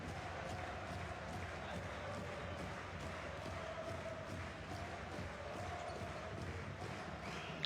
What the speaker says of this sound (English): See the Besiktas fans at one end making a huge amount of noise.